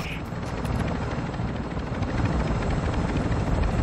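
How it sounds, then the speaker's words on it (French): A helicopter in the Call of Duty DMZ video game thrums steadily with a dense rotor and engine roar that stays loud and constant and swells slightly near the end. "On a un hélico, on va aller dedans"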